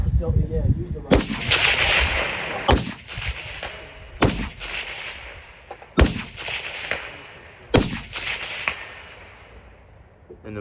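Suppressed rifle shots from a 14.5 barrel fitted with a Sandman S suppressor and flash hider end cap, fired outdoors: five sharp reports at steady intervals of roughly one and a half seconds, each with a short rolling echo.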